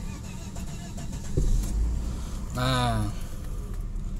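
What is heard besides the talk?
Volvo 960 Royal 3.0 engine being started with the starter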